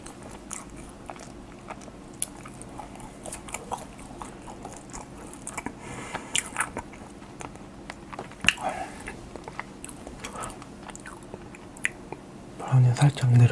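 A Valentine's limited-edition handmade chocolate roll cake is bitten and chewed up close, with soft, moist, squishy mouth sounds and occasional sharper bites spread through the stretch.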